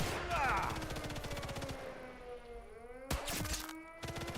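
Assault rifle fire in Sniper Elite 5 rattles in a fast automatic burst at the start, followed by quieter echoing tails and a second sharp burst later, with a voice faintly present.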